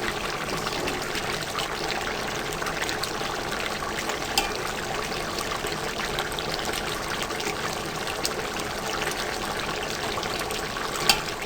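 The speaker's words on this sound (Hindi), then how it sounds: "तो अब इसमें मैं लहसुन का पेस्ट शामिल कर रही हूँ।" Chicken frying in a pot for degi chicken masala as garlic paste goes in, giving a steady, close sizzle and bubbling hiss that stays even throughout, with a few faint clinks and no talking.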